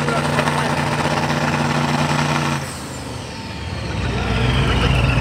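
A drag race car idles roughly and loudly up close, its uneven engine note dipping partway through before swelling back, with voices talking over it.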